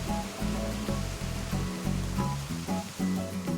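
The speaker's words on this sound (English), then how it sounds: "You can see Agnes fishing, and you can see a small waterfall." A small waterfall in the Animal Crossing New Horizons video game gives off a steady rushing, splashing wash of water, with soft game music tones playing over it throughout.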